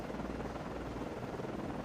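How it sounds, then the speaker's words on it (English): A video-game helicopter comes in to land on an Oliver Hazard Perry class frigate, its rotor making a steady, dense whirring drone throughout, with no voices. "And we will land our Con. second helicopter."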